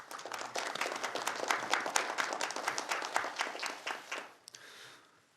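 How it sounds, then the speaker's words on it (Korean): An audience at a Kwanhun Club televised forum applauds to welcome presidential candidate Ahn Cheol-soo. Dense, loud clapping runs steadily for about four seconds, then drops off quickly into a faint tail. "뜨거운 환영의 박수를"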